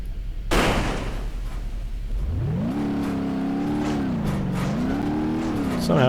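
A car in the BeamNG driving game with all its tires popped accelerates, the engine note climbing and wavering through rising and falling revs after a sharp burst of noise, with a voice over it.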